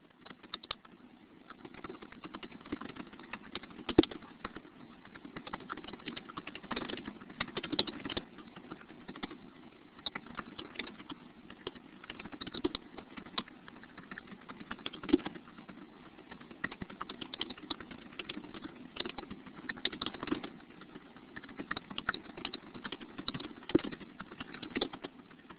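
Keys clack on a computer keyboard in uneven bursts of taps with short pauses, close and moderately quiet, continuing alone for nearly half a minute.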